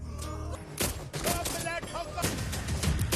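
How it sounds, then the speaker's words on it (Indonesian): Rapid bursts of gunfire during an attack scene in a film, loud cracking shots in quick clusters mixed with shouting voices and dramatic background sound. "Dalam serangan itu, Abimanyu tertembak yang membuatnya tumbang"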